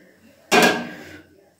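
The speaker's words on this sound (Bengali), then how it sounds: "আবার ঢাকনাটা খুলে নিচ্ছি।" A metal lid lifts off a pot used to bake a fruit cake, giving one sharp scraping clank that rings briefly and fades over about a second, close by with no talk.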